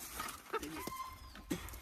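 A chicken being caught in a backyard lets out a few short, sharp squawks and clucks, scattered across a moderately quiet outdoor scene with faint voices.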